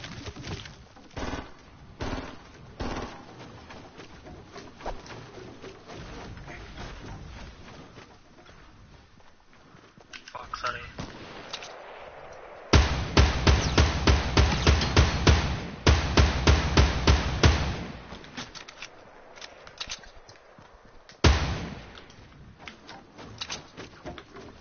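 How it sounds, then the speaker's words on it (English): Gunfire in the video game Fortnite, bursts of rapid automatic shots close by, with steady rhythmic volleys in the middle and a final loud burst, footsteps-like thumps around. "someone's shooting"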